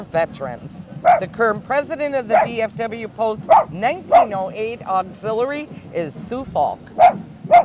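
A dog barks and yips repeatedly at a Memorial Day parade in Oshkosh, the sharp barks coming close and in quick bursts alongside someone talking over a public address.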